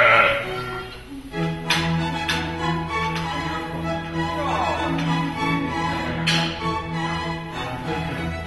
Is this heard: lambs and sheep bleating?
yes